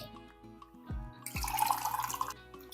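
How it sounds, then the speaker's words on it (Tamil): Water poured from a tumbler into a pot for sweet pongal, a splashing pour building up for about a second and a half, then trailing into a few drips, close and moderately loud, with no talk. "மூணு டம்ளர் அளவுக்கு தண்ணி ஊற்ற போகிறேன்"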